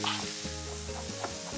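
Fennel, onions and garlic sizzle and fry in a pan with a steady hiss, punctuated by a few stirring scrapes, close and continuous with no talk.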